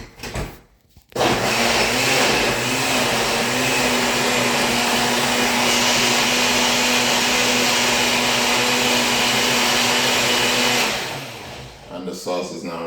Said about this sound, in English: So now I'll go ahead and blend those in the blender.